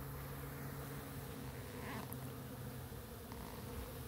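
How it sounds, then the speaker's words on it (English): Bees buzz in a steady, faint drone with a low hum that runs throughout, with no speech. "These very fragile bees."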